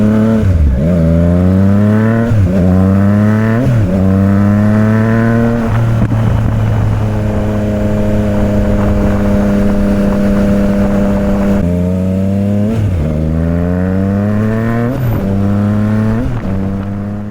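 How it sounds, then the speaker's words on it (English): A loud 2023 Triumph Trident 660 motorcycle with an aftermarket exhaust, deep and throaty, revs repeatedly, climbing and dropping in pitch, then holds a steady high idle before revving again. "it features an aftermarket exhaust, so it is fairly loud"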